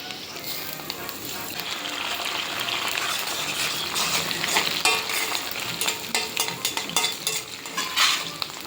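Biryani spices and fried onions are stirred in a sizzling pan, with constant frying hiss, repeated scraping strokes and occasional metal utensil clinks heard up close.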